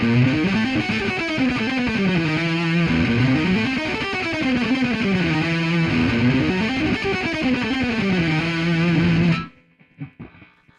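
Loud distorted electric guitar runs a steady stream of notes grouped in fours, rising and falling, then cuts off into near silence with a few faint taps.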